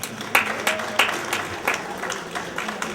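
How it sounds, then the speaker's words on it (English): Audience at a comedy show clapping, a broad wash of applause punctuated by several sharp, distinct claps standing out at irregular intervals. "Clap it up if you're proud to be an old head"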